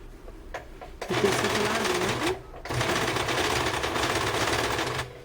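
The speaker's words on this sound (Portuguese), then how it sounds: "Tem que costurar devagar, senão ele dança e vai pro lado." A domestic sewing machine stitches elastic binding at a slow, steady pace, its motor running continuously for several seconds with one brief pause; someone talks over it.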